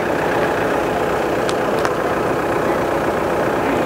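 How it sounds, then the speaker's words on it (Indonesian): An asphalt finisher paving machine laying plastic-waste asphalt on a road, its engine running in a steady, continuous drone with a couple of faint clicks. "proses intinya nih mesin ini nih. Mesin finisher apa finishing tadi"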